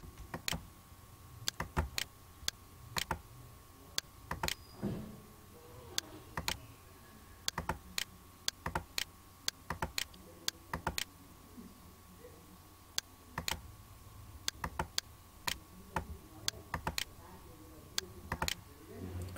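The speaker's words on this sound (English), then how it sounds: "Select the program and click on disable." A computer mouse clicks in sharp, irregular single and double clicks while a Windows startup program is being disabled, close and fairly quiet over a faint steady hum.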